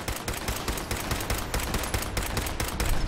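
Rapid, dense automatic gunfire from the video game Fallout 4, played on survival difficulty, with a continuous stream of loud shots and bursts filling the whole stretch and no speech.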